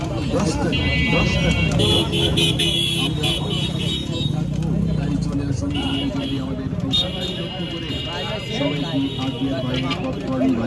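A popcorn publicity vehicle's engine rumbles steadily nearby, mixed with loud, continuous amplified announcing and street noise throughout.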